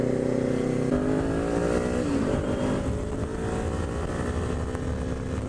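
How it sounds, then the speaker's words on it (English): Steady car exhaust drone on a freeway, heard from inside the moving car as a constant low hum with road noise. "This exhaust is a lot more bearable on the freeway"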